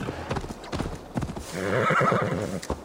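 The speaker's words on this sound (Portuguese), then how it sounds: "É um cavalo danês." A horse in the video game Assassin's Creed Valhalla: clip-clop hoofbeats followed by a loud, close whinny, with faint voice nearby.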